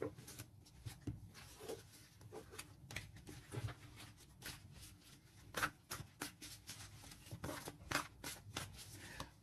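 Tarot cards shuffled by hand for a new spread, a quiet run of crisp flicks and soft riffling taps in irregular bursts, close and alone with no talk.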